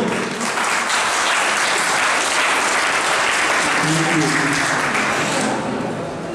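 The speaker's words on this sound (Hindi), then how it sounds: "जोरदार तालियों की गड़गड़ाहट होनी चाहिए" A seminar audience claps loudly and continuously for the full stretch, a dense wash of applause with faint voices beneath it.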